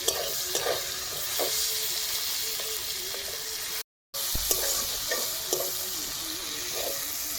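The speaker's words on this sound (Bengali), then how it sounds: "টমেটোটাকে ভালোভাবে ভেজে নেব, তা পর্যন্ত গলে যাচ্ছে।" Tomatoes sizzle in a pan while a utensil stirs and scrapes now and then. The frying holds steady apart from one brief silent break.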